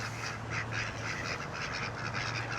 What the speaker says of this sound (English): Freaking duckies.